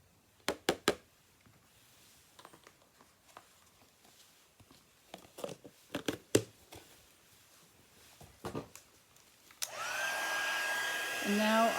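Heat tool blowing steadily over ink painted on a gift box, a continuous airy roar that starts late and holds to the end, after scattered taps and handling noises.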